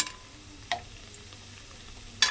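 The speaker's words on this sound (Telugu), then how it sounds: "ఓన్లీ నెయ్యి నేతిలోనే ఫ్రై చేస్తున్నాను" Bread pieces fry gently in ghee, giving a soft, faint sizzle with a couple of sharp ticks from a utensil scraping the pan.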